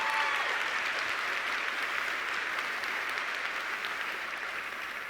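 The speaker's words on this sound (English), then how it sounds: "Please give a big round of applause to Koenig Dunn." Conference audience applauding an award winner, a dense, even round of clapping from a large room that holds steady and then tapers slightly over five seconds.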